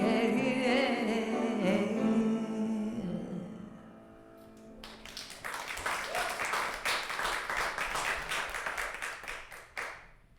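Applause breaks out from a church service audience after a Christmas song, rising as the last sustained musical notes fade, then a dense stretch of hand clapping that thins toward the end.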